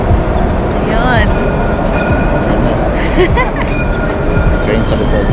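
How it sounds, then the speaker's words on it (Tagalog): A train rolls past in Jerusalem near the Church of the Holy Sepulchre, a steady loud rumble with faint wheel squeals, heard alongside people chatting close by. "Train sa likod."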